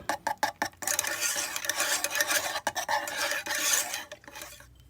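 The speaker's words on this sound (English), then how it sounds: "going to continue to stir it over the hot plate here until it is all the way melted" A spoon scrapes and stirs steadily through a melting mixture in a pot on a hot plate, giving a continuous close rasping and scraping with brief pauses and no talk.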